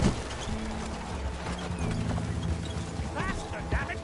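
Horse hooves clip-clop along a rough road in Red Dead Redemption 2, the steady beats partly buried under voices talking and a low rumbling ride throughout.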